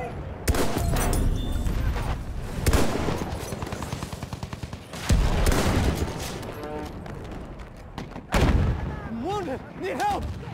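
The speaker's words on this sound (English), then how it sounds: "Machine gun, watch it," Machine gun fire and other gunshots in a First World War battle in the video game Battlefield 1, loud repeated bursts and rattling volleys with several sharp impacts, mixed with shouting voices in the chaos.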